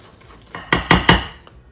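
Pumpkin cream cheese muffin batter, gluten free, being mixed in a bowl: a few soft scrapes followed by three sharp, close clinks of a utensil against the bowl in quick succession, then a faint tap, with no speech.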